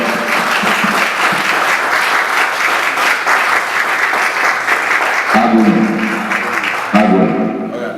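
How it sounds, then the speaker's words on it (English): A large conference crowd applauds steadily for visiting royal highnesses, dense sustained clapping that fills the room and then thins out toward the end. "He will give them a round of applause."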